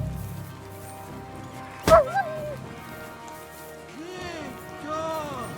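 A dog in the medieval game Kingdom Come: Deliverance gives one or two sharp, loud barks midway, then several softer rising and falling yips and whines over quiet game ambience.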